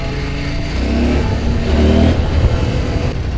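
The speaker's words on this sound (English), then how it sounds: "Even first gear, now I give it input, it's barely noticeable that the bike is on and off." CFMOTO 800MTX motorcycle engine, a 2025 model, pulling in first gear with a steady mid-pitched drone that swells slightly as it accelerates, close and continuous with no talking.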